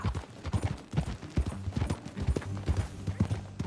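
Rhythmic horse hoofbeats clip-clop steadily in Red Dead Redemption 2, close and clear, with a faint whinny-like undertone and no talking.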